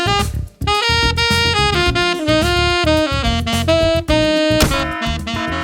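An electric guitar solo noodling aimlessly without rhythm or phrasing: a continuous, loud stream of bending, wandering single notes with few pauses, heard alone.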